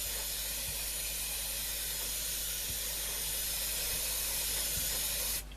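An aerosol can sprays a steady, close hiss over an old 1954 Philips valve radio, one continuous burst lasting about five seconds before it cuts off abruptly.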